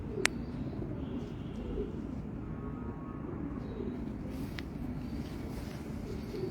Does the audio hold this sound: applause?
no